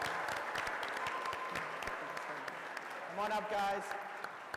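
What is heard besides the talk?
audience applause for the moms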